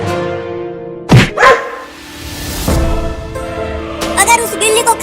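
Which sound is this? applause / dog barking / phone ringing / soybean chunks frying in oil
dog barking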